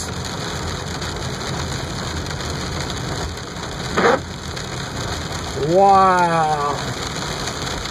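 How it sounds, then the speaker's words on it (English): Hail pounding down during a huge storm in Trenton, Ohio, a dense continuous patter with a brief sharp crack; a man exclaims once over the din. "I just can't believe that we've got hail like we do."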